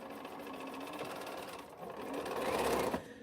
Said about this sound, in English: put these on here and sew them up